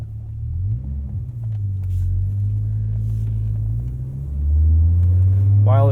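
A 1997 Volvo 850 R with a five-speed manual and fresh suspension drives along, its engine giving a low, steady rumble from inside the cabin that swells louder toward the end as it accelerates.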